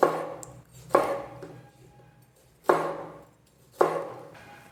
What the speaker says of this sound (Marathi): त्यालासुद्धा आपल्याला हे जाडसर कापायचं बरं का